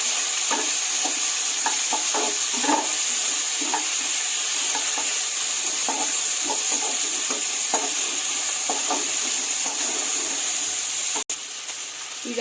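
Three chopped onions with a pinch of salt fry in a pan for mushroom biryani, giving a continuous close sizzle with a spoon stirring and scraping rhythmically throughout, then briefly cutting off near the end.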